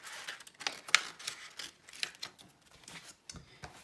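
Scissors snipping through paper to cut out a pumpkin shape for a handmade autumn harvest card, a few quiet, close crisp snips and rustles spaced unevenly.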